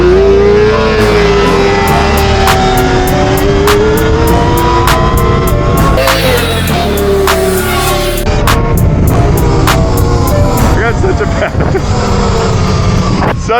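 Electric motorbikes, including an E-Ride Pro SR, an R6, an MX-5 and a Rivet Anthem, race nearby with rising and falling motor whines, rattling and sharp clicks, while riders talk over the noise.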